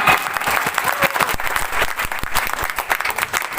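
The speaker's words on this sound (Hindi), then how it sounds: "अरे क्यों बैठे हो खाली, बजाओ ताली।" Audience applause at an anniversary event with big announcements, a dense, loud burst of many hands clapping continuously throughout, no voices over it.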